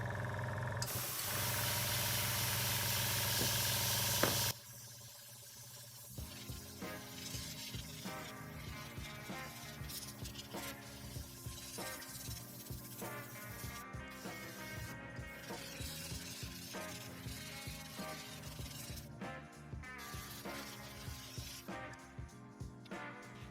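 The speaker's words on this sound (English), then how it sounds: "now we are going to spray a little bit brown on those pieces to cover the green spots" An airbrush spraying brown paint gives a steady hissing spray, loud for a few seconds, then cuts off, leaving a quieter patterned mechanical background.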